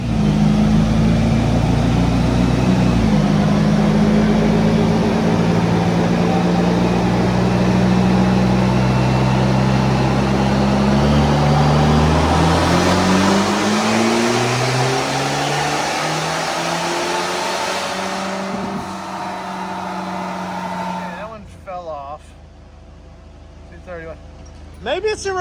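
A Jeep Wrangler JL with a 2.0 engine and bolt-on modifications drives slowly onto a dyno, its engine idling and rising through gentle revs before cutting off near the end, with people talking over it.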